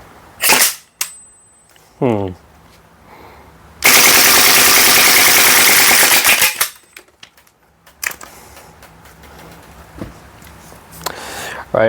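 Gas airsoft AKMN carbine test firing: a few sharp single shots, then a sustained loud automatic burst of about three seconds, followed by scattered softer clicks and handling noises, close up.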